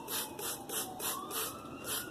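A hand sprayer mists hydrogen peroxide onto newly sown seeds in cocoa coir inside juice bottles for winter sowing, giving six or seven short hissing spritzes in a steady rhythm, close and fairly quiet, with no talking.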